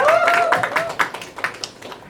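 Audience applause at a South Asian news media event as a guest is welcomed on stage, scattered claps rising under a voice that speaks at the start, then thinning into separate claps.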